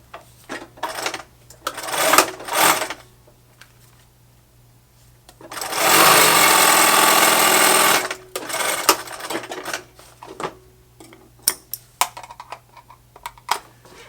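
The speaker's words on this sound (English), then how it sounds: "And I can sew this material just fine, just as the machine sits. And then I can go straight to inner tube." A sewing machine stitches through rubber inner tube material in short bursts, with one long, loud, steady run of stitching in the middle and quieter clicks and handling noises around it.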